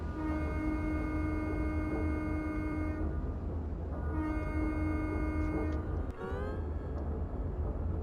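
A locomotive horn in Microsoft Train Simulator sounds a long, sustained blast, then a pause, then a second long blast, over a constant low engine rumble, with a short clunk near the end.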